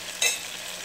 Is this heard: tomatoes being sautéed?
yes